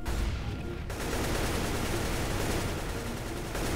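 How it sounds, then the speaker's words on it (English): Dense, continuous gunfire in the video game Counter-Strike: Global Offensive as barrels are shot, a loud, sustained volley of rapid overlapping shots with no pause. "Just shoot the barrels."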